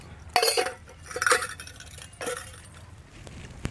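Metal pots and dishes clink and clatter as they are cleared away, several bright clattering bursts spread over a few seconds at moderate loudness with no talk.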